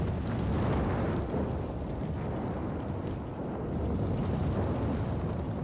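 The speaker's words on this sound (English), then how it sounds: "The sound of that, with the wind blowing the fire, is actually really good." Fire burning on a roof in the video game Generation Zero, a steady, dense roar and crackle mixed with blowing wind, continuous and fairly loud with no speech.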